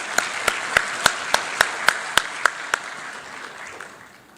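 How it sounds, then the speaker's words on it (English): An audience at a mediation conference hall in Vizag gives a brief round of applause, with about ten distinct, fairly loud claps in a steady rhythm that fade into room noise. "Please welcome with a round of applause."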